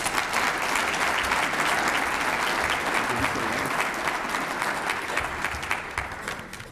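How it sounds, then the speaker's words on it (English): Sustained audience applause fills an award ceremony hall honoring a college alumni distinguished service recipient, steady dense clapping throughout that thins slightly toward the end. "So please, welcome, and let's clap again for Mr. Mottier"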